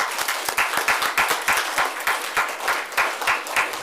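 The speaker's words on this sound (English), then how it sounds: "Let's give our candidates a round of applause." An audience at a local candidate forum gives the candidates a round of applause, with brisk, sharp claps from a modest crowd in a room, close and fairly loud, continuing evenly for several seconds.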